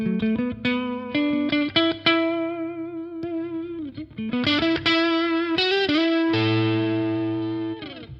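Overdriven electric guitar from a PRS through a Sunless Effects The Winter overdrive pedal, playing a melodic lead line of sustained, singing notes with bends, ending on a long held chord; loud and close, with no talking.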